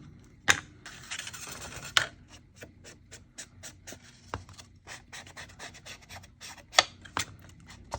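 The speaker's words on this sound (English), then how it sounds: "Just putting a little ink on the edges." An ink dauber rubbed along paper card edges, close dry scratchy rubbing with a quick series of rhythmic dabbing taps and occasional louder knocks, no voices.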